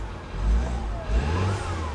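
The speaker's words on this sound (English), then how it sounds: "I love the sound of that turbo." A 2008 Humvee's turbocharged engine revs in a low, rumbling surge that swells twice, the steady mechanical drone holding close and fairly loud between the pushes, with a faint turbo whine riding above.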